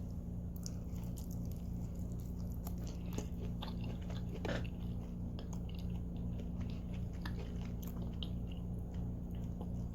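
Close-up chewing of crunchy, spicy roasted cauliflower, with soft crunches and bites repeating over a steady background hum.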